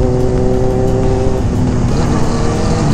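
A Suzuki GSX-S750 motorcycle engine drones loud and close, holding a continuous revving roar on the road with no clear gaps.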